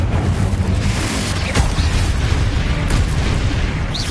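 Spell blasts from Incendio and Confringo in a PS5 wizarding-school video game, a sustained roaring barrage of fiery bursts with a sharp pop near the middle, loud and continuous without speech.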